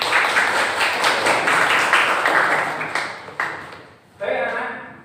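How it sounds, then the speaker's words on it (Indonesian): A burst of clapping from a class of schoolchildren rings out, fades away, then a brief voice follows near the end. "Berikan tepuk tangan untuk teman-teman kalian."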